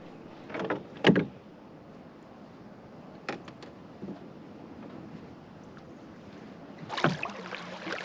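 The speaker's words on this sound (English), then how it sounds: "I'm paddling back in the fog here" Kayak paddle strokes sound while paddling back through thick fog after bass fishing: a few soft, separate splashes and drips spaced seconds apart over a quiet, hushed background.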